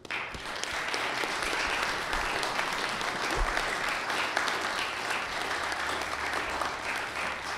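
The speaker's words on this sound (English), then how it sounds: "I'd like to invite a round of applause for our speakers." An audience applauds speakers at the end of a conference session on globalization, financialization and development, giving a dense, steady roar of clapping that holds its level without a break.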